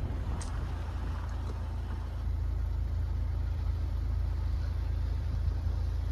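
A steady, heavy engine rumble from a Hyundai Venue crawling off-road over rough ground, loud and close, with no voices.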